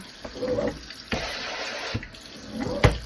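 Water runs from a tap while a makeup brush is rinsed under it, making a steady close splashing hiss with a few louder gushes and splatters as the brush moves in the stream.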